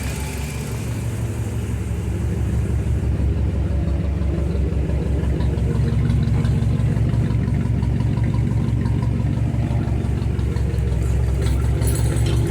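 A Hellcat 5.7L V8 car engine idles steadily and close by, its deep low rumble and rapid firing pulses continuous and even throughout, with no talking.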